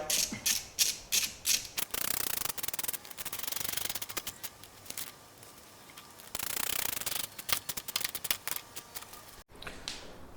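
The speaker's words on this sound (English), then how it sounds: "Using your socket wrench, as I was doing before, is just tighten through all your clamps" Socket wrench tightening hose clamps on a diesel intercooler pipe, giving bursts of quick ratcheting clicks and metallic rattling with short pauses between them, close and fairly loud.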